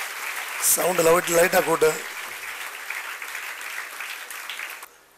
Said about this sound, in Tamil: மீண்டும் ஒரு பலத்த கரவொலி அவங்களுக்கு நீங்கள் கொடுக்கணும்